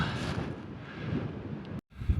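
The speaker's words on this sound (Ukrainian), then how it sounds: "сильний вітер тут" Strong wind roars and buffets steadily at the fortress in Varberg, Sweden, with low rumbling gusts and a brief drop to near-silence before the blast resumes.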